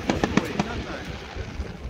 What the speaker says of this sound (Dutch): je moet het vuurwerk filmen, Dennis.